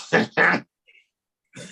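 Two sharp, explosive bursts close together, like a sneeze, followed by a brief silence and then a short vocal sound.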